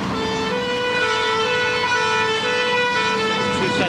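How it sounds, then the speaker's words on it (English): A fire engine's loud, blaring air horns sound continuously with a sustained, slightly wavering pitch over heavy engine rumble, close by. "Two sets of air horns on the machine."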